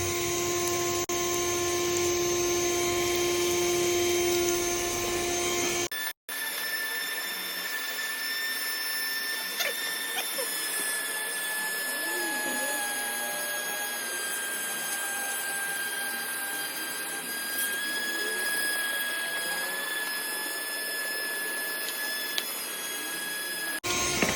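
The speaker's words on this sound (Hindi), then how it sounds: "अब फॉरवर्ड करा, वैक्यूम चालू हो गया है।" A Bergmann Cyclonic 2 wet-and-dry car vacuum cleaner drones steadily and loudly with a whining, tonal hum, cutting out briefly near the start before resuming and running on unchanged.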